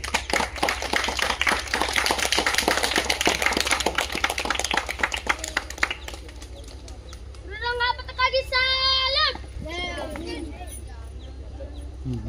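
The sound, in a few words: children clapping hands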